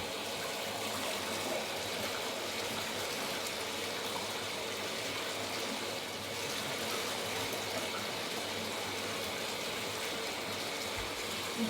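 Running water pours steadily as a tie-dye shirt is rinsed beneath it, a continuous, even splashing rush with no talk over it.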